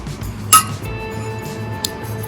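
A tablespoon of soaked takmariya seeds goes into a glass for fennel-takmariya sherbet, giving a sharp glassy clink, then a second fainter clink a moment later over quiet background hum.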